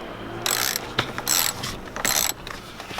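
Ratchet clicking on a big steering wheel bolt being tightened in an Audi TT mk2, heard as three loud bursts of rapid metallic ticks with short pauses between, close and with no talking.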